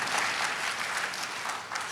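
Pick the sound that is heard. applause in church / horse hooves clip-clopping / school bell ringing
applause in church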